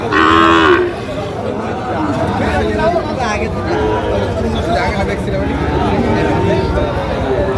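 Sahiwal cattle moo at a busy cattle market, one loud low call at the start followed by steady crowd babble and people talking nearby.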